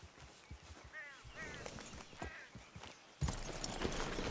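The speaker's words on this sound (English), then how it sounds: "Guess we'll leave the horses right here." Horses' hooves clip-clop on the ground in the Western video game Red Dead Redemption 2, quiet rhythmic footfalls under someone speaking, followed by a louder broadband wash near the end.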